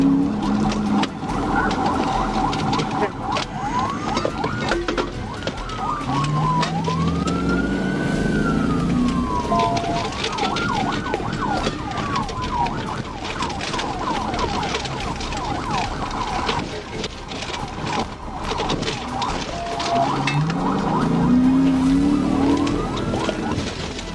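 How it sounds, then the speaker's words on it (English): Wailing police sirens from a police pursuit rise and fall repeatedly over steady traffic rumble, loud and continuous, with a deeper siren tone joining at times. "until sirens screamed like a final warning bell"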